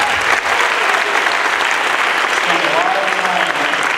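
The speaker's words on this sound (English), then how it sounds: "let's give those guys a round of applause" A school audience at a middle school holiday band and orchestra concert gives sustained, fairly loud applause to eighth-grade band members. A voice is briefly heard partway through the clapping.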